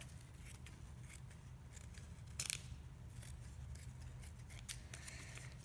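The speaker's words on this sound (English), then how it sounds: "the easier it is to cut an accurate shape using your scissors" Fabric scissors cut an appliqué shape at close range, with several quiet snipping strokes and a sharper, louder cut partway through against a steady low background.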